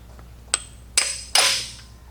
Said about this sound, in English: I'm just going to use a big socket now to try to drive it in all at the same time.